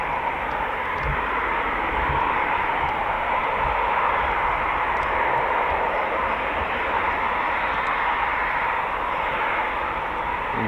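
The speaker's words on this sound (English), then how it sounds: "this is a sound we're all too familiar with, the sound of the EJ200 jets engines." Jets powered by EJ200 engines fly past during arrivals day at the Royal International Air Tattoo at RAF Fairford, a loud, steady, broadband roar holding for about ten seconds with no letup.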